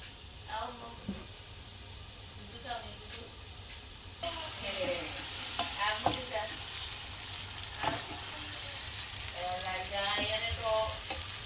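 Chopped garlic and onion fry in oil in a pan, a fairly faint sizzle that grows louder partway through, with occasional stirring clinks and a voice talking at times.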